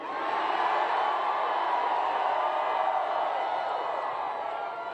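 A large rally crowd for Bernie Sanders cheering and roaring, a broad continuous wash of voices and whoops that swells and holds steady throughout.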